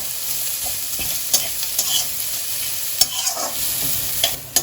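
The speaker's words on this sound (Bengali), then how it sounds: "পেঁয়াজ কুচিটা একটু মোটামুটি লাল লাল করে ভেজে নেব।" Chopped onions frying in a home kitchen pan while being stirred, a steady sizzle with scraping stir clicks and small pops throughout, no talking.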